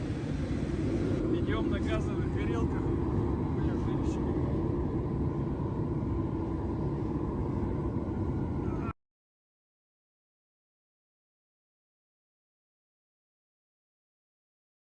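A laboratory pyrolysis waste recycling installation running on gas burners, giving a steady, loud broadband roar with low rumble that continues unbroken for about nine seconds and then cuts off abruptly into silence.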